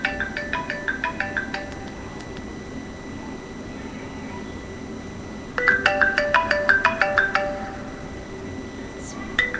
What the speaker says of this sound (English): Getting a call.